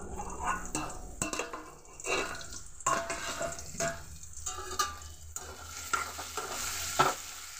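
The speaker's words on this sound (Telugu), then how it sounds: "చూడండి, చక్కగా ఫ్రై అవుతున్నాయి ఉల్లిపాయ ముక్కలు" Chopped onion and green chili pieces fry in a pan, giving a soft crackling sizzle broken up by scraping stirs and light clinks of a spoon against the pan.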